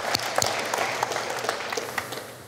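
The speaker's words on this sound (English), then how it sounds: "we're gonna record now this round of applause for our brave volunteers" An audience breaks into applause, a dense patter of many hands clapping that starts strong and tapers slightly.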